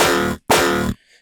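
A gritty tearout dubstep synth preset with flanger and high-pass filter blares in two loud, harmonically dense hits split by a short silence, ending in a faint thin tail.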